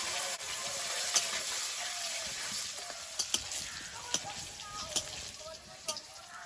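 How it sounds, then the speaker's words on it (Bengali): Dried chillies, whole cumin and crushed garlic frying in hot oil, a continuous close sizzle punctuated by several sharp crackles and spatters, with a voice speaking over it. "তেলের মধ্যে দেবো 2টো শুকনো লঙ্কা কেটে, গোটা জিরে, থেতো করা রসুন"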